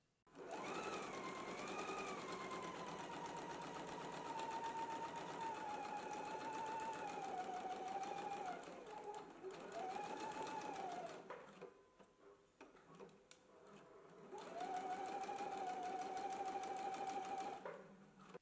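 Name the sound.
sewing machine stitching pockets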